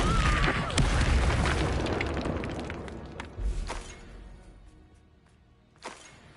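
A booming blast from the Confringo spell in the fantasy game Hogwarts Legacy opens loud, then rumbles and fades, with a couple of smaller thumps and a faint later pop.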